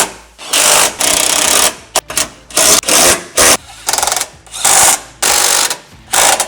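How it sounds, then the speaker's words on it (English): A power tool drives home bolts on the step brackets of a Ford Transit while a Legend UpStep RS3 step is installed, giving loud, repeated whirring bursts of ratcheting with short pauses between them. "We're going to tighten the remaining bolts that we have that connect our vehicle brackets to the actual step assembly."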